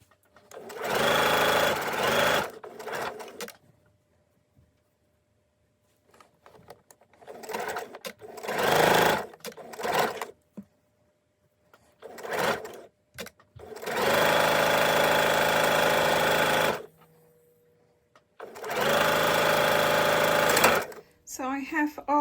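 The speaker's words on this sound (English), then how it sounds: "I'm actually going to chain stitch all 3 pieces together" A sewing machine chain stitches three fabric pieces for a headband in several loud bursts of rapid whirring, separated by quiet pauses with occasional handling sounds.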